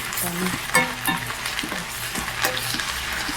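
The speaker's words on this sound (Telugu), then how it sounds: "ఈ పచ్చి వాసన పోయేదాకా ఈ అల్లం వెల్లుల్లి పేస్ట్ ఫ్రై చేస్తున్నాను" Ginger garlic paste sizzles and crackles in a pan for a prawn pickle, with a utensil stirring and scraping at intervals; the frying is close and moderately loud, and no one speaks.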